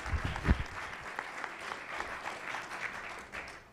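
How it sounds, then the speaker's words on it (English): Audience applause after a speech at a press club luncheon, a dense steady patter of clapping from a moderately distant crowd that carries on evenly for a few seconds before easing slightly. "How about a round of applause for that speech while we transition here?"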